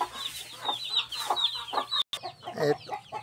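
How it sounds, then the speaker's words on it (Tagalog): A naked-neck cobra chicken with a featherless neck, a male, clucks in a run of repeated nasal calls close by, with other fowl sounds around it and a brief cut midway. "Ito yung lalaking cobra chicken daw."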